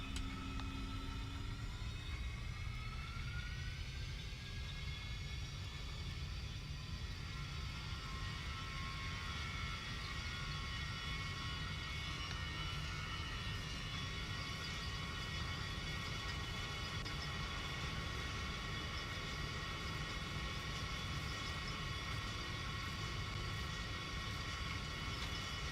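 Engines of a Boeing 737-800 in a cockpit simulator spool up to takeoff thrust, a rising whine settling into a loud, steady roar with a broad rumble underneath, no talking.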